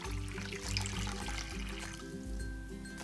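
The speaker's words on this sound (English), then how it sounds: "We're just gonna be pouring it in all." A steady trickling pour of warm water from a jar fills a small plastic doll bathtub, splashing continuously and close by with no voices.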